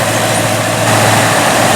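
A naturally aspirated, fully forged 5-liter V8 in a 2012 Ford Mustang Boss 302 Laguna Seca idles with a steady, loud, low rumble, close by and unbroken, with no talking.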